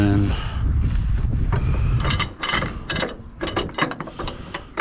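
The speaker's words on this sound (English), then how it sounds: "I'm going to crank on this one first" A ratchet strap being cranked to tighten down a load, rapid metallic clicking bursts in quick repeated strokes, loud and close, with faint voice in the background.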